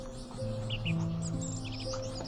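Golden pet birds in a breeding setup chirp in short bright bursts over a steady low hum, with several calls close together.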